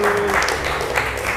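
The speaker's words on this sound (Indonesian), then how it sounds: "Beri tepuk tangan untuk kelompok 1" Schoolchildren at an Islamic primary school in Limpung clap for group 1: a short, busy burst of many small hands, fairly loud and close, with a faint tone and murmur beneath.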